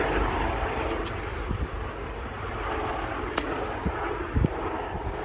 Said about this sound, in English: Blinking helicopters.